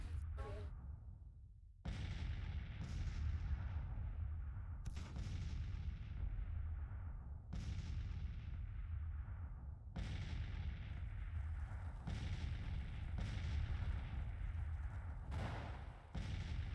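Booming artillery fire in a Grand Tactician Civil War battle, several heavy blasts each followed by a long rumbling decay, loud and spaced a few seconds apart.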